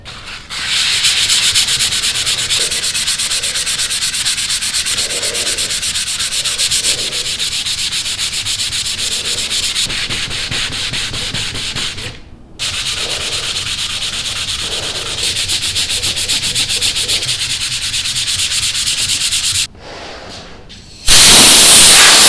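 A power sander with 180 grit sandpaper works over a wooden dresser in a long, steady, loud rasping hiss, stopping briefly twice before switching off near the end.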